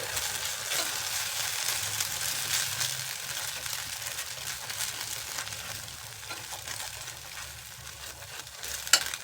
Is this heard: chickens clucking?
no